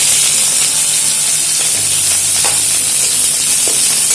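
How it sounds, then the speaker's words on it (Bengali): Nigella seeds, onion and green chilies frying in hot mustard oil, a loud, dense, continuous hissing sizzle close up with a few faint clinks from the pan underneath. "এবারে এর মধ্যে কালো জিরে ফোড়ন দিয়ে দিলাম, আর যেটা দেব পেঁয়াজ আর কাঁচা লঙ্কা।"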